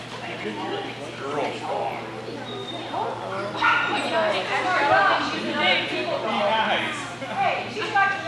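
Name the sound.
dog barking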